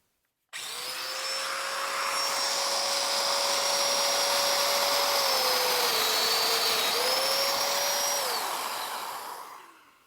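A domino joiner cutting mortises in wood for a quilt ladder: a loud, high motor whine starts abruptly, holds steady with a few brief dips in pitch as the cutter bites, then winds down at the end.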